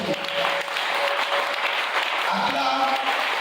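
A congregation at a New Year's Eve crossover night church service claps and cheers for Jesus, steady loud applause with crowd voices and a few sustained tones ringing through.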